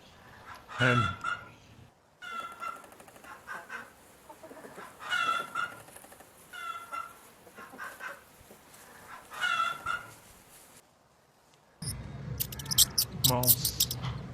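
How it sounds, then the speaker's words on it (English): A hen clucks in a string of short, close calls with a few louder squawks, over a busy farmyard backdrop that turns noisier and brighter in the final seconds. "Hen."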